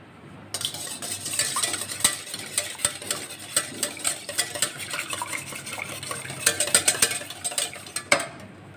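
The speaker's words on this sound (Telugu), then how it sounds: "ఫస్ట్ టూ ఎగ్స్ తీసుకుందాం ఎగ్స్ బాగా బీట్ చేసుకోవాలి" Two eggs are beaten briskly for pancake batter, a fast irregular clatter of a utensil whisking against a bowl that runs for several seconds, close and fairly loud, no speech.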